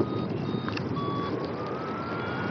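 Paraglider variometer in a thermal at about seven in the evening, emitting thin electronic tones that climb steadily in pitch over continuous wind rush, faint and without talk.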